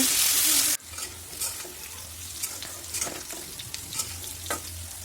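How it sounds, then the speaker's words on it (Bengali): Potatoes fry in a pan with salt and turmeric, opening with a brief loud hissing sizzle that drops to a quieter fry under close, irregular stirring scrapes, with no voices. "আলুর মধ্যে দিয়ে দিচ্ছি আমরা লবণ এবং হলুদের গুঁড়ো দিয়ে আলুটাকে আমরা একটু লাল লাল করে ভেজে নেব"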